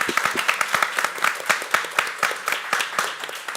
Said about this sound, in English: So applause for them as well.